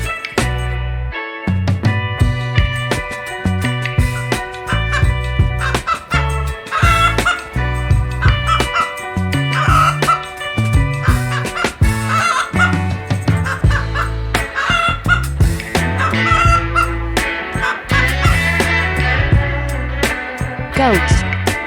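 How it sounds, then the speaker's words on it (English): Chickens cluck and a rooster crows over a loud, rhythmic musical backing. "Chicken."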